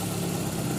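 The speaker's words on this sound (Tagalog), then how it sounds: "Yan yung idle niya ngayon." A Toyota Corolla engine that had been hard to start in the morning idles steadily up close, a continuous low hum and rumble with no voices.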